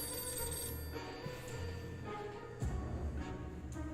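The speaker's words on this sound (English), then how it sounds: "Is that a phone call?" A telephone rings with a repeating electronic ring, fairly faint and somewhat distant, over a low hum in an indoor space, no one speaking.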